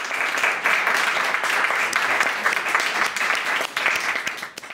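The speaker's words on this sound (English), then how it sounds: "So please, a big round of applause for Sissel Tolaas." An audience gives a big round of applause for an artist being introduced, a dense steady wash of clapping that runs throughout and thins slightly at the end.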